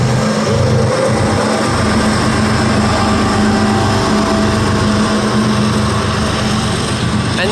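A CSX coal train rolling through Terra Alta, West Virginia at night with a locomotive mid-train, giving a loud continuous rumble and rattling hum that stays steady throughout.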